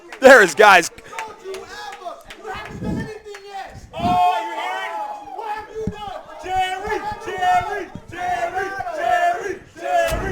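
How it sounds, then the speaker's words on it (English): A crowd at the Hypefestation 2 live event, during the Infinity vs Synergy match, cheers and yells in loud, overlapping surges of shouting voices throughout. "The crowd is gassed right now."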